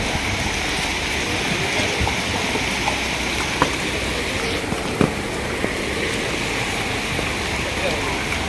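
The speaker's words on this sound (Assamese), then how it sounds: "এতিয়া বৰষুণ দি আছে" Rain falling steadily outside a car, a dense continuous patter with a few sharper knocks, fairly loud and even from start to finish.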